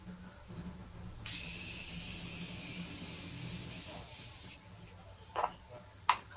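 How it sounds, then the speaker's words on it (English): A fine Morphe Continuous Setting Mist sprays in one continuous hiss lasting a few seconds, close up, followed by a few soft taps. "take a bit of the Morphe Continuous Setting Mist"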